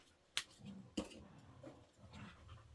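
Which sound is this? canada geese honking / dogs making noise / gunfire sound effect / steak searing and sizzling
dogs making noise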